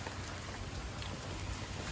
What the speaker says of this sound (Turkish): Her taraf yağmur.